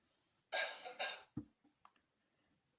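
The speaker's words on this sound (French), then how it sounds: "J'ai de la toux et un rhume depuis 3 semaines" Two harsh coughs close to the mic, then a few small throat sounds and quiet breaths in an otherwise silent room.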